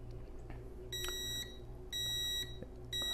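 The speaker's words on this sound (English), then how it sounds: "So if I hit start, there's the countdown timer." A Slevio portable home gym timer beeps its countdown: bright, high electronic tones in three evenly spaced half-second pulses, loud and close, with no talk.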